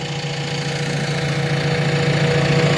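A JCB excavator engine runs steadily while digging the foundation pit for a temple, a loud, close, continuous diesel rumble with a slight knocking texture and no talk.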